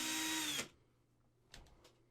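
A power drill whirs steadily as it bores a hole into a resin model kit part, then cuts off abruptly, followed by a few faint soft handling taps.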